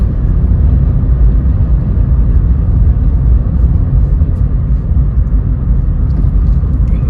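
A 2004 Vauxhall Corsa C Energy on a test drive gives a steady, loud engine and road rumble from inside the cabin, continuous and unbroken with no talking.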